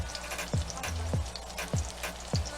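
White corn tortillas fry in a hot pan with steady oil sizzle and popping, punctuated by several low bubbling bursts in a loose rhythm, close and unvoiced.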